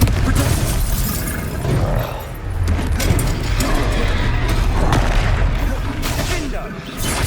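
Explosive Confringo spell blasts in Hogwarts Legacy combat, loud booming bursts layered over continuous battle noise and game music, with speech-like voices mixed in.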